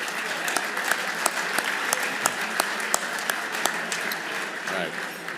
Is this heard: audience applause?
yes